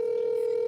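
A steady telephone tone plays alone, close and clear, a single held pitch as a phone call is placed to return a missed call.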